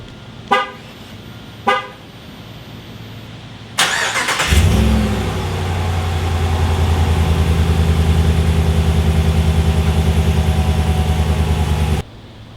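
A 2021 Ram 1500 pickup fitted with a Borla S-Type cat-back exhaust gives two short horn toots, then fires up with a loud crack and settles into a deep, steady idle rumble heard close by for several seconds before cutting off.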